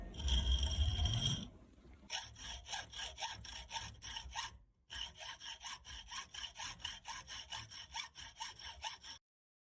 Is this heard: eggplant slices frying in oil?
no